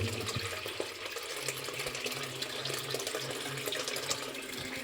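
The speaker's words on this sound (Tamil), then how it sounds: "இந்த நந்தி பகவான் வாயிலேருந்து தண்ணி வந்துட்டு பாருங்க" Water flows continuously from the mouth of a stone Nandi statue at a village temple, a soft, steady trickle and splash heard fairly quietly throughout.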